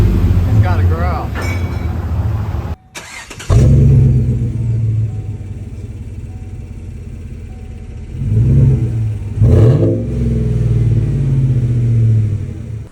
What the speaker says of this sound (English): Full custom Axlebot exhaust with quad tips. Looks mean now for the cold start.